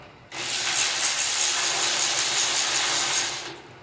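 An electric power tool spins off a bolt while an IH Farmall 706 tractor is split in a shop, a loud continuous whirring rattle lasting a few seconds before cutting off.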